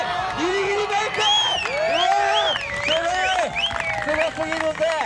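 Audience applause and cheering at a freestyle competition in Japan, a loud sustained crowd roar under an excited announcer calling over the noise.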